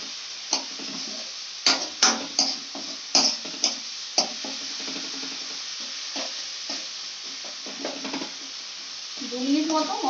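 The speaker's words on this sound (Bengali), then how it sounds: "দু মিনিট মতো মশলাটাকে ভেজে নিতে হবে" Spice paste for a giant prawn malai curry is stirred and fried in a pan, with a soft steady sizzle broken by several sharp scraping strokes of the spoon, fairly close and without talk.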